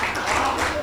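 Brief applause from the audience at a Delhi poetry recital, a short burst of clapping mixed with a speaking voice over it.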